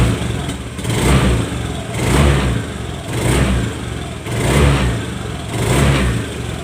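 A motorcycle engine, just repaired after a sticking throttle, revs up and settles back in repeated swells of about a second each, close and loud with no talk.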